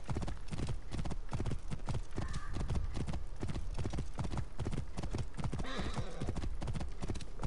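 Horse hooves clip-clop in a fast, regular rhythm in a video game, with a couple of brief neighs over the steady trotting and no talk.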